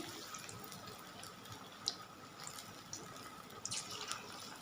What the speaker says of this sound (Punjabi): ਤੇਲ ਆਪਣਾ ਗਰਮ ਹੋ ਗਿਆ ਹੈ ਹੁਣ ਆਪਾਂ ਇਹਦੇ ਲਈ ਪਕੌੜੇ ਪਕਾ ਲਾਂਗੇ